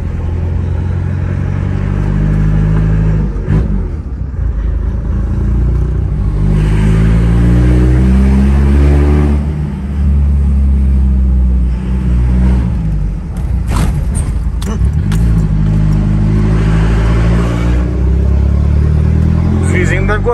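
A Ford Ranger 3.0 engine revs in repeated bursts, rising and falling with a deep rumbling exhaust, loud and close, while someone talks over it at times.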